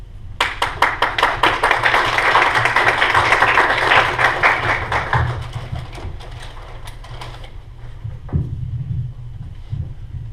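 Audience applause at a county auditor candidates forum, a dense burst of clapping that swells, then thins to scattered claps before fading, with low room rumble beneath.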